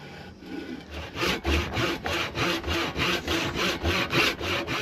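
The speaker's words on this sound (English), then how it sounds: "I like to start with one of these Japanese saws" A Japanese hand saw cuts down through cherry wood in a steady back-and-forth rhythm, each stroke a loud, close rasping pulse, about a dozen strokes in under five seconds with no talking.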